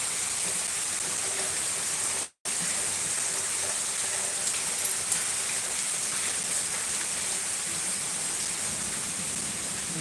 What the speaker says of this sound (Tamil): என்ன மழை அடிக்குது சூப்பர் மழை